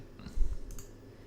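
A computer mouse clicks a few times while files are edited in vMix live-production software, short faint clicks standing alone against a quiet room.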